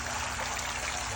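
Fountain water trickling steadily inside an aquarium, a continuous soft splashing flow with no breaks, close and moderately quiet across the whole moment.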